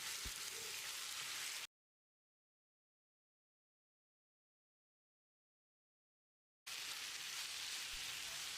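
Half a kilo of cleaned chicken sizzles in a pan with ginger garlic paste for Chettinad chicken fry, giving a steady, faint crackling hiss that stops abruptly for several seconds and then resumes.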